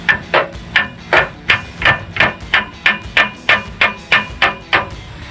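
A hammer strikes a Shockit socket repeatedly to free a rusted O2 sensor on a truck, about fifteen sharp metallic blows in a steady, fairly quick rhythm, close and loud with no talking.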